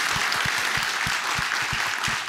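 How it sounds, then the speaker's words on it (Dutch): Audience at a prize ceremony applauds a lecturer, a full, loud, steady roar of many hands clapping close by, with a few heavier low thumps scattered through it and no speech. "Laten we nog één keer klappen voor Loes."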